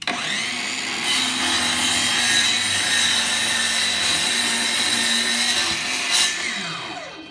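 A power saw makes a straight cut through a wooden trim piece for a mud room return, a steady loud whine running almost continuously for about six seconds before spinning down.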